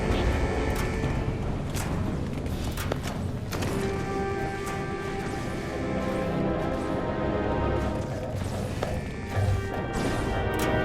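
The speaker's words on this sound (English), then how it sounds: "Command has authorized tearing it down to reuse materials." Smashing and thudding impacts repeat as an abandoned fortification is torn down in the video game Starship Troopers: Extermination, with dense, continuous crashing against a busy layer of game noise.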